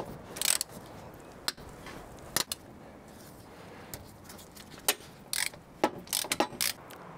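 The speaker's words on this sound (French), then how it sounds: "Et une douille de 19 ici pour défaire le boîtier de direction." A 19 mm socket on a ratchet loosens the steering box bolts on a Nissan Patrol, giving sharp, close ratchet clicks in short bursts with quiet pauses between the strokes.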